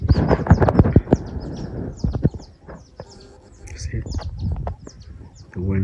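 Birds chirp and sing outdoors in short high calls, with people talking nearby and occasional clattering sounds mixed in.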